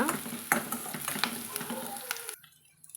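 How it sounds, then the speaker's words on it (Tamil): Onions and curry leaves sautéing in a pan for Pallipalayam chicken, stirred with a utensil: a close sizzle broken by repeated scraping strokes, stopping abruptly near the end. "இப்போ நம்ம நல்லா கலந்துட்டுக்கலாங்க இது ஓரளவுக்கு பொன்னிறமாக வதங்கி வரட்டுங்க"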